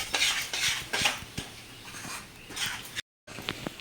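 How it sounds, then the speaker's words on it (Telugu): Milk being stirred into a burfi mixture in a pan, with quick scraping and clinking strokes of a spoon against the metal in an uneven rhythm, close and fairly soft, interrupted by a brief gap of silence. "పాలు వేసేసి ఇలా వెంటనే బాగా కలిపేసుకోవాలి."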